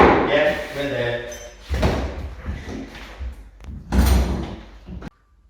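A chateau door being shut and tested during renovation, with a few heavy thuds and rattles as it swings and closes, mixed with people talking nearby.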